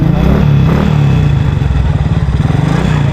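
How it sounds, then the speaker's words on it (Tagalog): A 2006 motorcycle engine running close by, a loud steady low-pitched throb with fast regular pulsing, no voices. "2006 pa itong motor na to, hanggang ngayon buhay pa rin, buhay pa rin."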